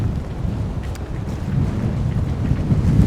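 Gale-force wind of around 30 knots roars through the port of Lavrio in Greece while big waves churn the harbour. Close, heavy rumbling buffets the microphone and builds slightly toward the end.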